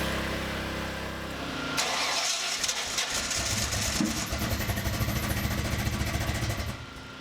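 A car engine fitted with an Edelbrock Pro Flow 4 fuel injection system cranks, catches and runs with a steady rough idle. The engine is close and loud, fading slightly at the end.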